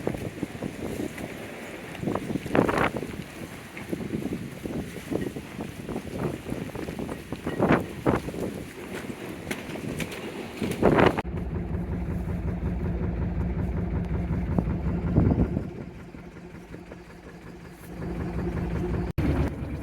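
A sailboat motors under engine in a windy channel on the British Columbia coast, a steady low engine drone under rushing wind noise and gusty buffeting on the microphone, with no voices.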